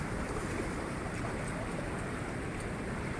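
Strong water flow at a dam, a steady, loud broadband rush of churning water that holds constant and close throughout with no talk over it.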